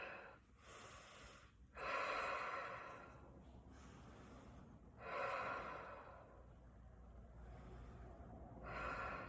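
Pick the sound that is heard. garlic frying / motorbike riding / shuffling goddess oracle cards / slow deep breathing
slow deep breathing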